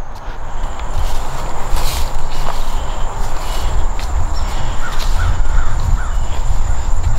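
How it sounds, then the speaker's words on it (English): Several crows caw a few times from a distance in Riverside Cemetery, Asheville, North Carolina, heard over steady outdoor hiss and faint insect buzzing, with no one talking. "The sound of crows echoing through the air on this cemetery safari."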